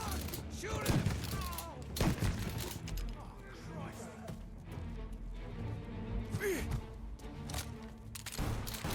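Gunfire crackles in Mafia: Definitive Edition, with a few sharp shots in quick succession amid tense dialogue and background ambience, fairly quiet overall.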